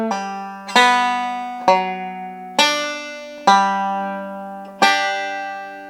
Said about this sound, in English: Now that brings us to our little D ending lick, which sounds like this.